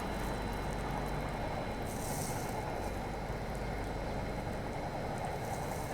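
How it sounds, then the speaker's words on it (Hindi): A high-speed train overtaking, with another crossing on parallel tracks, heard from aboard a Prayagraj special train, including the Patna–Kota express passing: a constant, loud, broad rumble with a brief hissing swell partway through. "यहाँ हाई स्पीड ओवरटेक हुआ, साथ में हाई स्पीड क्रॉसिंग भी देखने को मिल गई।"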